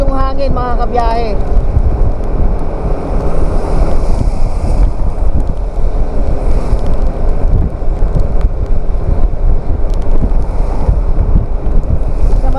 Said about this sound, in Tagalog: At malakas yung hangin mga kabiyahe.